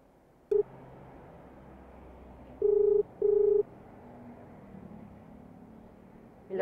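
A phone call being placed to a motorcycle taxi passenger: a short click, then two steady ringback tones in a row, then a final beep, over low road and traffic hum.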